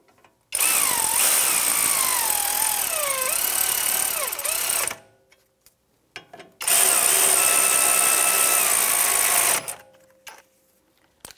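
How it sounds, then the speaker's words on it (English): Electric ratchet with a 50 mm socket snugging rear brake caliper bolts on a 2011–2019 Ford Explorer, two loud sustained whirring runs close up, separated by a short pause. "Get my electric ratchet with that 50 millimeter socket."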